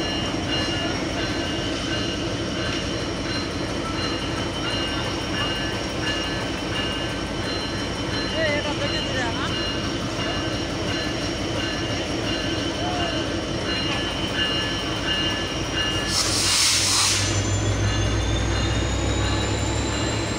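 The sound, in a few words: Titumir Express intercity train at Parbatipur Junction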